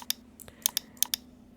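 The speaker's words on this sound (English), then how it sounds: "select the first letter and hit enter or return key on your keyboard" Sharp clicks of computer keyboard keys as the enter key is pressed, about eight quick separate taps at close range in an uneven rhythm over a faint hum.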